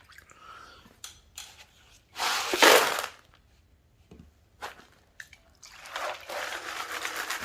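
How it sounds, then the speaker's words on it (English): Paydirt rocks from Rose Creek, Nevada are rinsed off with water in a pan, with bursts of splashing and trickling broken by short pauses and a few clinks of stone. The sound is close, and a stronger gush comes near the middle. "Get these all rinsed off."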